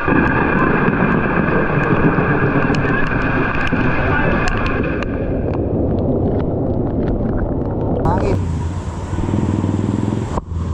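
Strong typhoon wind and rushing floodwater in North Caloocan during Typhoon Carina roar steadily and loudly near the microphone, with heavy wind buffeting throughout.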